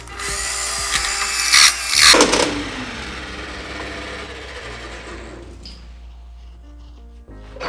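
Scheppach DP55 drill press cutting with a hole saw: a loud whine and grinding rises to a harsh peak as the saw bites, then the motor winds down with a fading hum, close and with no voice.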